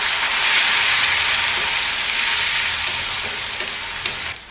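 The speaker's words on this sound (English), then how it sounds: "after 1 minute of frying the green chilies" Green chilies fry in a pan with a steady, loud hiss and crackle of hot oil that continues throughout with no talking.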